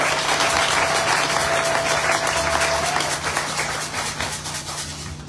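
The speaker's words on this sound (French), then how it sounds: "Applaudissez pour le Seigneur." A church congregation at Sunday worship applauds loudly in continuous dense clapping, with a held tone underneath, and the applause eases off slightly toward the end.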